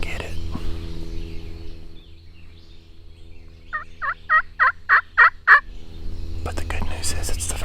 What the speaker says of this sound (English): it's the first bird we've heard gobble in a couple weeks